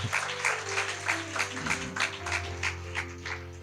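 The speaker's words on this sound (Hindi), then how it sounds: "अच्छे से ताली बजाइए।" A church congregation applauds during a Sunday Chhattisgarhi service, dense sustained clapping from many hands with a music backing underneath, steady and loud throughout.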